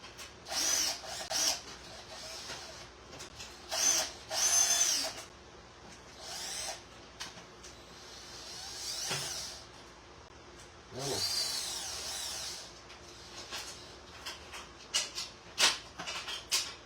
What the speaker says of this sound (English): Let's get these screws out of there.